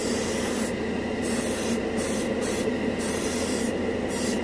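An airbrush sprays Alclad chrome paint in a steady, loud, continuous hiss with brief breathy pulses layered over it, and no talking.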